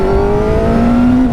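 A Kawasaki ZX-10R motorcycle accelerating hard on a country road: a loud, close engine roar with a tone that rises steadily, dips as a gear changes, then climbs again, with no talk over it.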